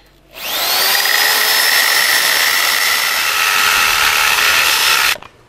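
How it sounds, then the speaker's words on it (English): A quarter-inch carbide drill bit bores through the brick of a chimney, a loud steady high-pitched whine that holds for about five seconds before cutting off, with no talking. "First we went to the store and got a good quality quarter-inch carbide drill bit."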